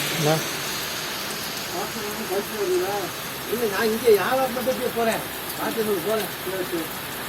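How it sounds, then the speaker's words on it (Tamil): Heavy rain pours steadily outside a shop where people shelter, a constant hiss of falling water beneath a voice speaking close by. "சரியான மழை வந்துடுச்சு ஒரு கடையில் ஒதுங்கி இருக்கும்"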